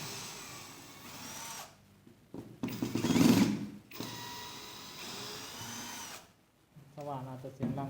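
An electric drill with a rewound motor, used with an ONEVAN screwdriver attachment, whirs in loud bursts, revving up and down with short pauses between runs, a voice briefly heard near the end.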